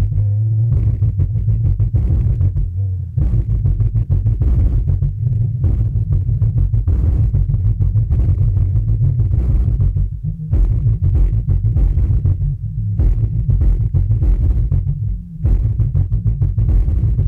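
A bass-heavy hip-hop track plays loud and continuous with a deep throbbing low end and steady drum hits, heard through a SUBPAC M2 wearable tactile bass system.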